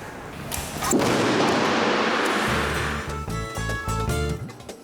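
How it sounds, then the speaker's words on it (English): A cannon artwork by Anish Kapoor fires with a heavy booming blast, followed by a rush of diffuse noise and rumbling thuds as the discharge settles. "Or why Anish Kapoor keeps firing off his cannon."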